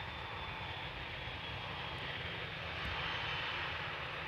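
An EasyJet airliner taxiing toward the runway at Amsterdam Schiphol gives a constant, broad engine roar with a faint whine, distant and unbroken with no talk.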